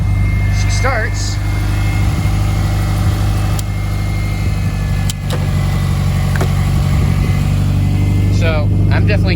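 A Subaru Forester XT, fitted with new coils, idles steadily with a low, even engine hum close by, while a person speaks over it and a few chimes and beeps sound in between.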